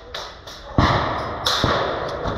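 Several sharp whooshing thumps from an airsoft mortar fire in quick succession nearby during airsoft woodland gameplay, each a short hissing burst over a noisy outdoor background.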